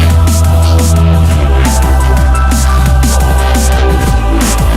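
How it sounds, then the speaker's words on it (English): A synth bass line from the Reason Europa synthesizer using the Destructor Drone patch plays as loud, dense, evolving low tones with a repeating rhythmic pulse, alone and up front. "Take a look at this bass line played using the patch Destructor Drone."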